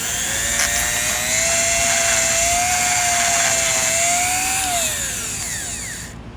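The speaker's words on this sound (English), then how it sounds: "Someone teach me how a Dremel works." High-pitched whine of a Dremel rotary tool spinning close by, holding a steady pitch with slight wavers, then winding down at the end.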